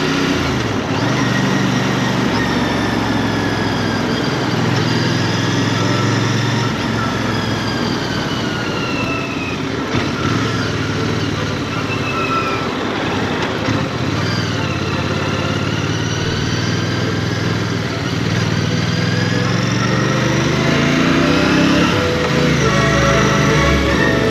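A Royal Enfield Bear motorcycle engine drones on a test ride, rising and falling in pitch as the throttle opens and eases, close and continuous under wind rush and occasional talk.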